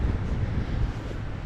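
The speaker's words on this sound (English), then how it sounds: "if you can't hear this because of the wind, that's my bad" Outdoors, wind buffets the microphone in a constant loud low rumble that fills the whole moment, steady with slight swells and no speech.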